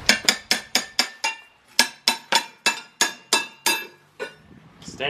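A hammer knocks sand off an object with about fifteen sharp, ringing metallic strikes. The blows come in a quick regular run, pause briefly, then continue with a few more hits close by.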